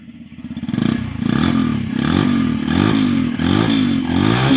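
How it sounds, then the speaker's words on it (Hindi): A Yamaha FZS V4 motorcycle engine idles and revs close by, with a steady rumbling throb rising and falling through repeated throttle blips, heard alone without talk. "तो ये यामाहा एफजेडएस वर्जन 4 कुछ इस प्रकार साउंड क्रिएट करती है।"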